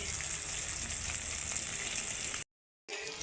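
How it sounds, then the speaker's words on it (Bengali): Salted, turmeric-coated rohu fish sizzles steadily in hot oil with a constant crackling hiss that briefly cuts out near the end, then resumes. "মাছগুলো এখন লাল লাল করে ভেজে নিচ্ছি"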